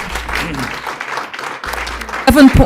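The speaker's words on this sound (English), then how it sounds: "Let's give him a round of applause" An audience at a Peoria Board of Education meeting claps, a mid-level wash of applause running under a speaking voice and swelling louder near the end.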